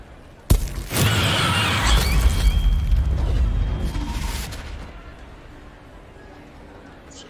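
Confringo fire spell exploding in Hogwarts Legacy: a sudden sharp crack, then a long roaring, crackling blast that slowly fades over several seconds, with game sounds underneath.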